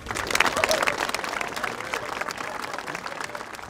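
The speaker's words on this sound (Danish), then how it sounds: "så lad os give dem et bifald" Crowd applauding at a ship launch, a broad wash of clapping from many people, loud at first and then easing slightly, with some voices mixed in.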